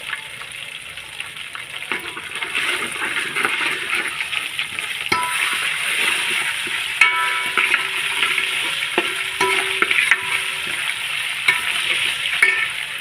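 Ginger fries in ghee and oil for jackfruit biryani with a continuous, bright sizzle, close and fairly loud, punctuated by occasional scrapes and taps of a stirring spoon.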